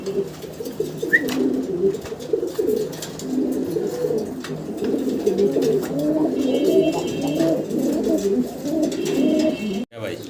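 A grizzle racer pigeon cock coos almost without pause, its low, rolling, repeated calls close and continuous, with a few other faint sounds in the background.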